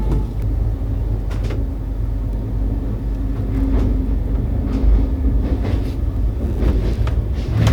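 82356 PNBE Suvidha Express to Patna Junction rolls along, heard from on board as a steady low rumble with recurring rail clicks and clatters, no voices.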